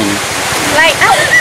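Steady rushing roar of the waterfall at the Curup Tinggi tourist site near Lubuklinggau, loud and continuous, with voices of people talking faintly over the water.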